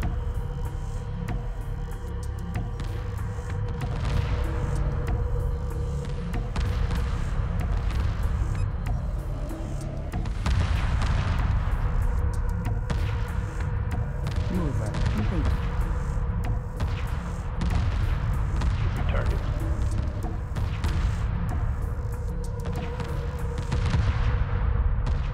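Weapons fire rattles through a space battle in Homeworld 2: a constant rumbling bed studded with repeated sharp, crackling bursts, some clustered in quick runs, at a steady level throughout.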